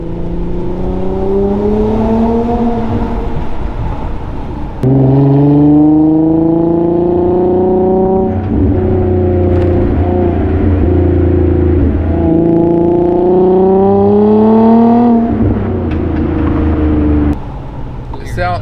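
Engine of a 2008 Infiniti G35S six-speed manual sedan revving hard inside a tunnel, with rising and falling exhaust drone that climbs through the gears, loud and close throughout.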